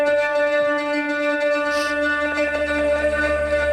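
Omnisphere synthesizer patch with an organic, textured character, a sustained, richly harmonic drone with a low rumble building underneath and a brief airy swell midway, played alone.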